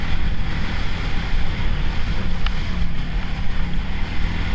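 AODES Snowcross 1000 snowmobile driving over snow, a steady broadband engine and track roar with wind rush against the microphone, continuous and close without any talk.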